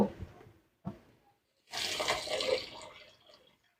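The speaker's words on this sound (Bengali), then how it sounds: "পরিমাণ মতন জল দেব।" Water pours into a pan of spiced peas for pure veg matar paneer, a rushing splash lasting about two seconds after a few brief knocks and clinks, close by.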